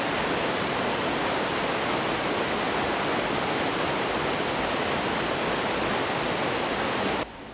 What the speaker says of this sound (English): the dominant sound is the steady flow of water.